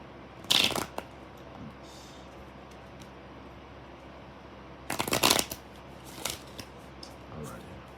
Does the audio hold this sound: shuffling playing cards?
yes